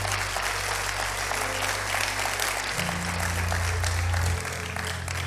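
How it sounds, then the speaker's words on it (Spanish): Church congregation applauding during a Spanish-language sermon, a dense, steady wash of clapping that fills the whole stretch at full strength, with a sustained low tone underneath that shifts partway through. "Si usted lo entendió, denle aplauso al"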